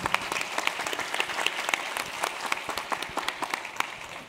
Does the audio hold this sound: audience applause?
yes